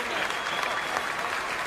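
Sustained applause from a home crowd at a Somerset cricket ground, a dense, steady wash of clapping that stays loud and even throughout, saluting Marcus Trescothick's final appearance.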